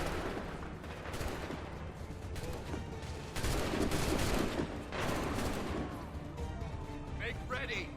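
Musket volleys crackle in Assassin's Creed 3, ragged bursts of gunfire rolling through a battle scene with shouted orders and talk layered over the shots.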